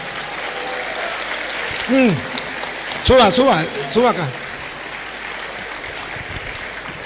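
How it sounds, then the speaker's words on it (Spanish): Steady applause from a church audience welcoming a guest continues throughout, with someone speaking briefly over the clapping. "Fuerte, que se oigan los aplausos."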